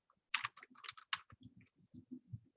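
Quiet typing on a computer keyboard while searching a newspaper archive: a short run of soft, closely spaced key clicks in a near-silent room.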